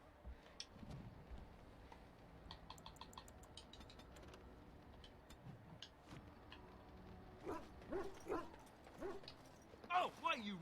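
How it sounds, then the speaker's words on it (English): Small dog growling, yipping and snapping inside Dragon Age: Origins, with short sharp vocal bursts getting louder toward the end, heard over game ambience and background noise. "Your furry friend here took offense at me getting near his food. He snapped at me, look."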